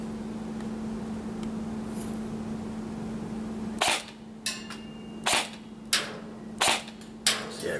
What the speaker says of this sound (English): And let's take the initial shot and see where it lands.